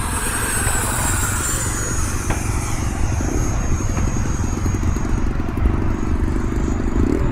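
An E-flite F-16 80mm electric ducted-fan RC jet flying at full throttle, a loud, steady, continuous whine and roar that holds for the whole stretch and shifts slightly as it passes.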